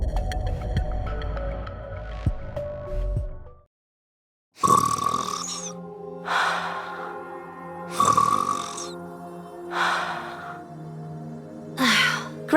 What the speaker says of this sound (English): Ave's snoring is goddess level. We can hear it all the way from over here.